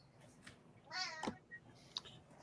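A house cat meows once, a clear rising-and-falling call near the mic, with faint room noise and small sounds around it in a quiet indoor setting.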